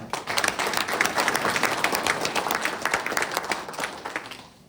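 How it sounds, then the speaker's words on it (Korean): Audience applause for local residents attending a Korean regional-issues legislative forum: dense, steady clapping from a crowd that holds for several seconds and thins out at the end. "박수 한번 보내주시죠."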